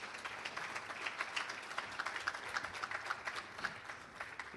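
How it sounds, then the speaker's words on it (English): Steady applause from a crowd at a chamber of commerce awards gala, many hands clapping at a moderate distance, continuous throughout with no voices standing out. "Give Harris a nice round of applause as well."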